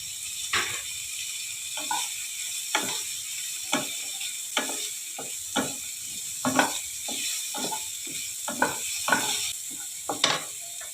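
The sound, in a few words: garlic and chili frying and stirring in oil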